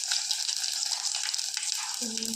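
Cumin, mustard seeds and garlic crackle and sizzle steadily in hot tempering oil, close and continuous, with a faint voice near the end.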